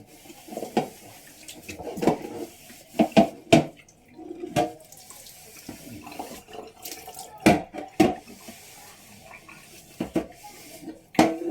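Cold water runs from a tap into a sink while dishes are washed with a dish cloth, dishes clinking and clattering intermittently, close and moderately quiet.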